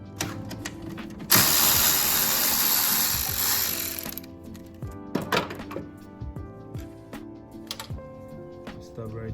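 Ratchet with a 5/16 socket loosening small bolts on a BMW E90 engine cover area, a broad burst of clicking followed by scattered short ratcheting bursts and taps, close up over a steady low hum.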